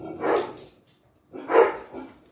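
Indoor dogs bark twice, a pair of separate short barks about a second apart, close and moderately loud in an otherwise quiet room.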